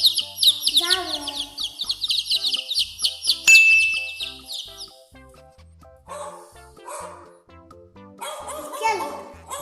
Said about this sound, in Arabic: الكلب حاضر.